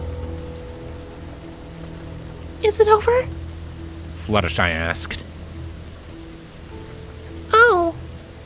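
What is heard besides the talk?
rain pattering on a surface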